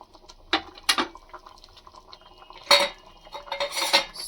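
Tomato dal with curry leaves being stirred in a pot, village style: a few sharp clinks and scrapes of a spoon against metal, two bursts early and two more toward the end, with quiet gaps between.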